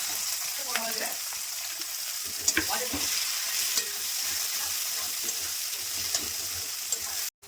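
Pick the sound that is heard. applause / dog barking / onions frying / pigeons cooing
onions frying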